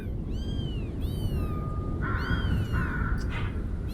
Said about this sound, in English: it sounded like maybe you had a litter of kittens